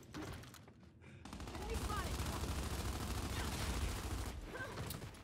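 Gunfire in the Gears 5 video game, on the Bunker map, with sustained rapid bursts of shots that swell and hold loud through the middle, while voices talk over the action.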